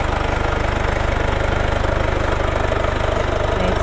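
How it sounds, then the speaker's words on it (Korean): Mercedes-Benz C-Class W205 C250 d 4MATIC diesel engine idling with the engine bay open, a steady, even low rumble with a fine regular clatter pulsing throughout, close and uninterrupted. "엔진 소리 역시도 매우 일정합니다."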